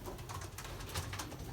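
Pigeons coo softly inside a breeding loft, a faint, continuous murmur of low calls with no talking.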